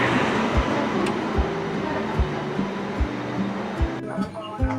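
A Janshatabdi Express on the Konkan line pulls away with steady rumbling and rhythmic wheel clacks on rail joints roughly every 0.8 seconds. The noise is close and fairly loud.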